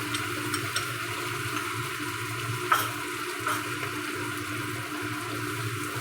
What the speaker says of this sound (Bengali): পেঁয়াজটা হালকা করে ভাজা হয়ে গেছে। এবারে যে বাটা মশলাটা ছিল ওটা দেওয়া হচ্ছে।